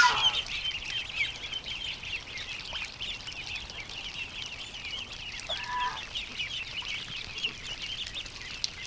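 Ducks in a backyard give scattered quacks and honking calls over a steady bed of outdoor ambience, moderately distant, with no voices.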